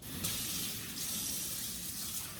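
Tap water runs steadily into a sink while a duck is rinsed before roasting, a continuous close splashing hiss with no talking.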